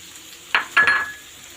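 Cumin seeds hitting a hot pan of softened carrots for chicken fried rice, two quick bursts of sizzle with a faint metallic ring, close and brief, no talking.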